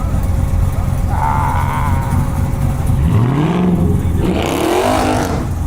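A 600 hp Scat Pack revs hard at a midnight car meet, the engine note climbing and falling in loud sweeps over a steady roar that may carry tire spin, with a rising whine near the end.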